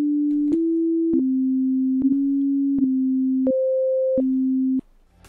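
Pure sine wave test tones used as an oscilloscope example, a clean electronic hum stepping between several steady pitches with brief clicks at each change, then a sudden cutoff near the end.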